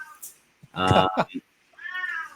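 An elderly male cat throwing a fit lets out loud, drawn-out yowls, with one long cry followed by a second after a short pause, close by.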